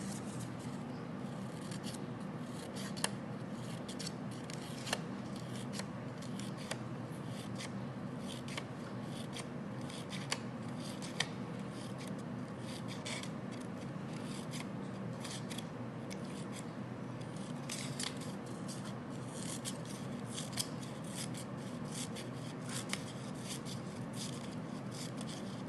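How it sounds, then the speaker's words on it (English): Scissors snip paper wings for a handmade puppet birthday card, a long run of quiet, close, rhythmic crisp cuts with faint rubbing in between. "For this effect, we will do snipping like this."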